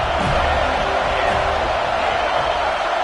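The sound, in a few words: home crowd cheering at a football game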